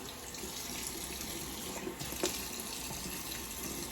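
Tap water runs into a sink for a post-shave rinse after alum, a faint, steady splashing flow with a few small splashes, close but quiet, no talking.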